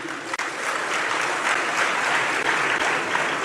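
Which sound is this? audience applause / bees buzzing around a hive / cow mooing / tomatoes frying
audience applause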